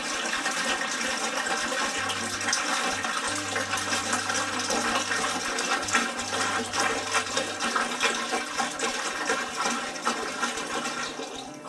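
Cold distilled water, a gallon of it, pours into a sanitized bucket, a continuous rushing, splashing stream heard close and steady for the whole stretch with no talk over it.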